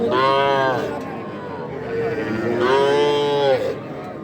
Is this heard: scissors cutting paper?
no